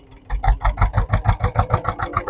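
Boat engine chugging during a river crossing to Mousuni Island, a close, steady low rhythmic thump of about five beats per second, running alone with no talk.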